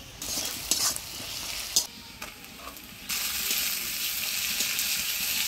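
Chopped onions and tomato frying in a pan while being stirred, with clicking scrapes and knocks of the spoon over a low sizzle that swells louder and steadier in the second half, no talking.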